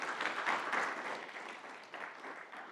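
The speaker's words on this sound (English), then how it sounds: "let's give our panelists one more round of applause" An audience at a government-careers panel event gives the panelists a round of applause, a soft, fairly distant patter of many hands clapping that tapers off gradually.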